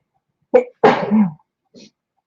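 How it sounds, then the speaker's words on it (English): A single abrupt sneeze with a quick intake of breath just before it, followed by a faint sniff, otherwise quiet. "I gotta sneeze."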